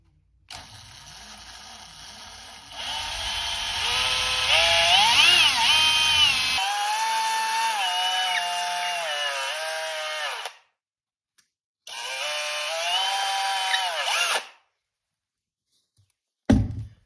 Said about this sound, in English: I'm very bad at drilling straight down